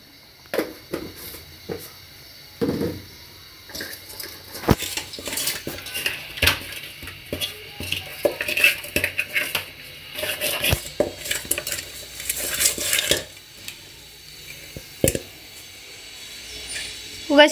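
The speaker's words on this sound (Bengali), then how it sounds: "আমার আম্মু আগে থেকে হলুদ মরিচ দিয়ে মাছগুলোকে মিক্স করতেছে" Pieces of fish are worked together with turmeric and chili in a bowl, giving irregular clinks and scrapes of utensils against dishware with bursts of louder clatter throughout.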